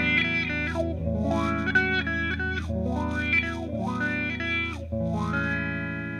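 A sustained electric guitar chord is swept through a wah-wah pedal. The filter rocks up and down in slow repeating vowel-like sweeps over about six seconds, loud and close with no talking.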